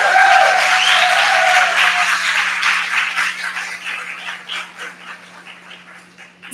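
An audience at a book festival applauds to welcome author Geraldine Brooks, with loud, dense clapping that slowly thins into scattered claps and fades out.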